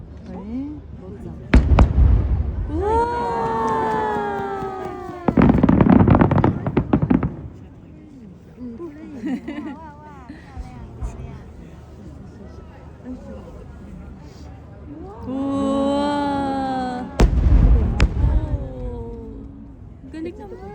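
Chichibu fireworks whistle upward and burst with loud booming cracks, several launches in a row, while people chatter and exclaim nearby.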